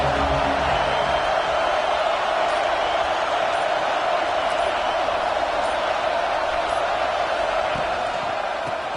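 Stadium crowd noise in a Madden football video game, a constant loud roar of thousands of fans with no breaks, while a commentator's voice talks over it.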